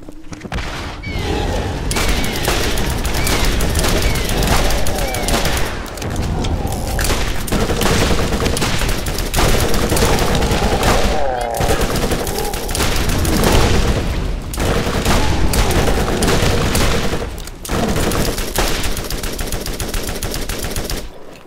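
Continuous loud gunfire from the video game Borderlands, with dense bursts of shots and heavy booms running almost without a break.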